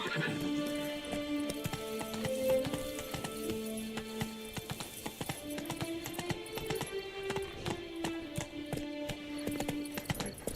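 Roach the horse galloping in The Witcher, a steady clip-clop of hooves with occasional whinnies under game music, while a voice speaks over it.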